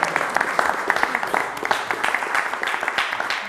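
Audience applause at a local event in Gemona, a steady patter of many hands clapping fairly close and continuous throughout with light background noise.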